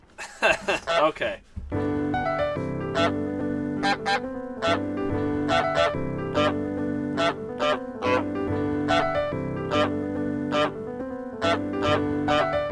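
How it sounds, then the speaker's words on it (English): A fence sound sampled from Untitled Goose Game plays on a PO-33 pocket sampler, looped into a steady rhythmic pattern with sharp repeated hits after a brief spoken word at the start. "Oh, I forgot, this is the sound of the fence."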